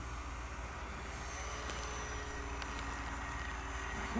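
Electric motor of a DW Hobby Zlin Savage Bobber balsa RC plane with a 1000 mm wingspan, a steady continuous drone holding throughout at moderate distance, with no talk over it.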